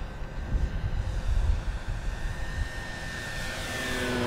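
A DYNAM PT-17 RC model biplane flies overhead with a steady electric motor whine, louder in the first second and a half, then fading slightly as it moves away.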